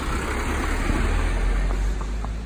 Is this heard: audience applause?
no